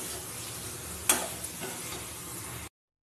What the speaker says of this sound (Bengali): যে ডালটা করব, সেই ডালটা ভেজে নেবো